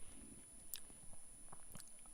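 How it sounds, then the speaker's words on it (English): Cough drops being chewed close up, with a few soft wet crunches and squishes scattered irregularly over a quiet background, no talking. "I'm chewing on I got a couple of cough drops ready to go"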